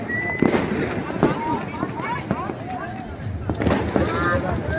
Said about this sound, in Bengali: এই পাশটা বোমা মারতেছে সব বসুন্ধরাতে